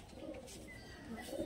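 Najra pigeons in a loft give short low coos, a couple of soft rolling calls close by over steady background noise.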